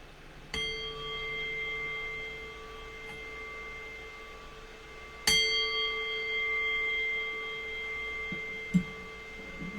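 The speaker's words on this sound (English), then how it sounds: "I'll cue that by ringing the bell 3 times." A meditation bell is struck at the close of a guided meditation. Each soft, clear ring hangs in a long, shimmering sustain, and the strikes are spaced several seconds apart in an otherwise quiet room.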